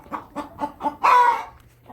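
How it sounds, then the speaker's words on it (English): Chickens in a barn make four short, evenly spaced clucks close by, followed by a longer, louder drawn-out squawk and a faint final cluck. "Chickens are happy."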